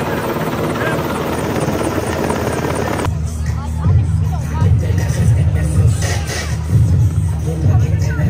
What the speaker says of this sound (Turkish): jandarma helikopterinin gösteri ekibi İskenderun anıt alanı üzerinden İskenderunluları selamlayarak